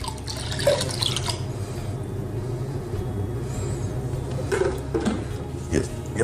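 Mead being poured into a container during homebrewing, a steady splashing trickle with drips over a low background hum.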